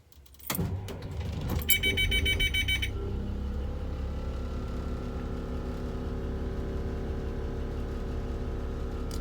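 A school bus engine cranks and catches after a brief jingle, then settles into a loud, steady diesel idle that rumbles on without talk.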